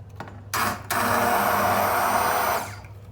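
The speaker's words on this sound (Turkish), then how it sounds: "Bütün sebzeleri blenderdan geçirmeye başlıyorum" A blender pureeing cooked vegetables, including broccoli, for soup starts with a short burst, pauses briefly, then runs at a steady high whine for about two seconds before stopping.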